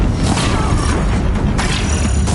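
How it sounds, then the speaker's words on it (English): Deathbringer war machines in Horizon Zero Dawn pound a bridge with heavy fire, a loud continuous barrage of booming blasts and rumbling impacts dense with crackling debris, filling the whole stretch without pause. "If the Deathbringers keep firing, this bridge will go."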